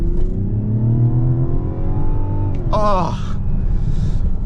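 A 2025 Mazda CX-70's engine revs up toward high RPM, a steady rising whir and rumble heard from inside the cabin, with a brief vocal interjection over it.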